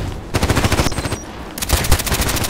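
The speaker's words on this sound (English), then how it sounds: "this guy is just shooting me all the time" Rapid automatic gunfire from an AK-12 assault rifle in the online shooter Contract Wars, sharp bursts of shots rattling out in quick succession, loud and close with brief gaps between strings.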